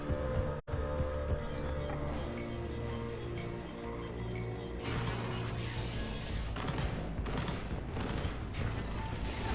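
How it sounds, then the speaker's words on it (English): Gunfire and explosions in the video game Mass Effect 3, rapid bursts of shots and booms over layered game music and ambience, loud and busy, with a sharp cut early on. "I hear active gunfire."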